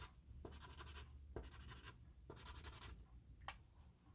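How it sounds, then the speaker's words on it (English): A pencil circles and scribbles on a paper worksheet, close up, in four rhythmic bursts of scratchy strokes separated by short pauses. "I'm going to circle the uppercase I's and scribble the lowercase I's"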